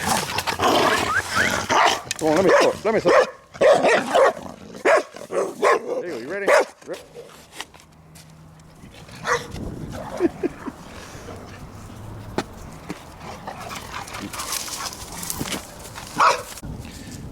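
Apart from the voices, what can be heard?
dogs barking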